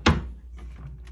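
A desk drawer in a single king hotel room at Hershey Lodge opens or shuts with one sharp, close thunk, followed by faint soft rustling and handling noise.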